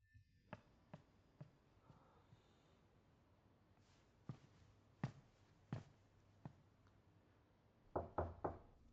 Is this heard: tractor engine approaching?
no